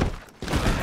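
A short crack of gunfire in the video game Red Dead Redemption 2 breaks out, a dip to near quiet, then a denser burst of shots and rumble follows.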